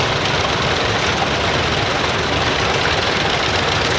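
Antique tractor engines idle steadily at a tractor show, a dense, continuous low rumble of many motors running together close by for the whole stretch, with no break in the noise.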